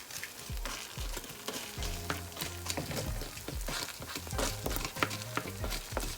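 Sausage sizzles and crackles in a hot pan for an egg omelette, with steady frying hiss broken by scraping stirs and pops.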